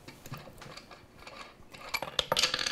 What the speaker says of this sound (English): We need to take these little wing nuts off.